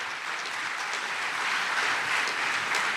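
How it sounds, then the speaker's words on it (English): Steady applause for award winners at the 40th Chancellor's Distinguished Alumni Awards ceremony, a dense even wash of clapping from a large audience that holds at a constant level throughout. "please give a warm round of applause to all of our wonderful winners"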